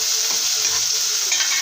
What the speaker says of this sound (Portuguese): Eu vou colocar pra refogar a minha cebola.